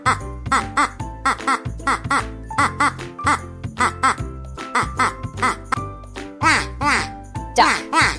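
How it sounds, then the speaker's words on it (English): A duck quacks in a quick, steady run of repeated calls, loud and close, over a light rhythmic backing track. "Duck."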